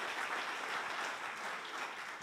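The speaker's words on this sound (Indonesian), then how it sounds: "Amin, beri tepuk tangan dulu buat Tuhan Yesus" A church congregation applauding during a Sunday worship service, a fairly distant, even patter of many hands clapping that holds steady and tapers slightly at the end.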